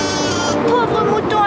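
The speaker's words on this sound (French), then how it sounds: "Pauvre mouton apeuré." A frightened sheep in a cartoon bleats in a wavering, quavering cry over busy background music and sound, loud and continuous for the short moment.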